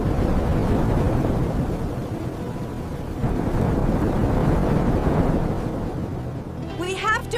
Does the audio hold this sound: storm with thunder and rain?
yes